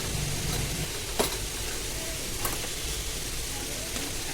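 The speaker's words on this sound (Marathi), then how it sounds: "आता आपण याच्यामधल्या सर्व गुठळ्या अशा मोडून घेणार आहोत हलवत हलवत।" Besan roasting and being stirred in a pan while lumps are broken up, a steady soft sizzle with scraping strokes and a couple of sharper clicks, a voice speaking faintly alongside.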